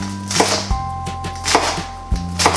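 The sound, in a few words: lettuce being chopped with a mini Santoku knife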